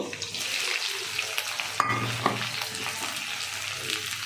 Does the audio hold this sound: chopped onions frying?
yes